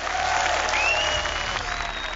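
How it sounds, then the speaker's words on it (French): An audience bursts into sustained, dense applause for a group of tilers seated together, a steady close wash of clapping hands that holds at an even level from start to finish. "Applaudissements pour nos carreleurs!"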